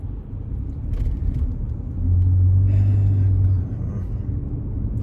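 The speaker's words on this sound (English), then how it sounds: "Sorry, traffic is just annoying me again." Road traffic outside, with a low engine rumble that swells as a car passes between roughly two and three and a half seconds, then fades back to a steady distant background hum; no talking.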